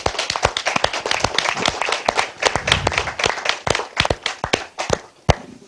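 An audience at a seminar applauding, with dense, fairly close clapping that continues steadily and thins toward the end, ending on a few scattered final claps.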